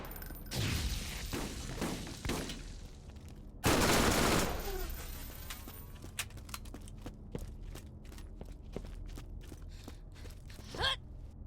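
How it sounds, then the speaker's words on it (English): Gunfire in the video game Borderlands: scattered shots and bursts crackle through the opening seconds, with one heavy loud blast near four seconds, then sparse lighter pops and clicks continue to the end. "Alright, who was shooting at me?"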